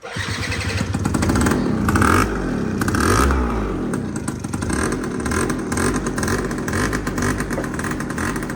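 A small motor vehicle engine cranks over with a starter, fires and revs up and down repeatedly nearby, a loud rattling clatter that continues throughout.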